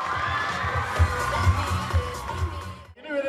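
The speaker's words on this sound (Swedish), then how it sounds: "Men först applåder ledare och spelare flickor 8!" At a youth handball club's season-ending event, a crowd cheers and claps for a girls' team and its leaders. Children shout and whoop over rhythmic low thumps, the noise breaking off briefly near the end.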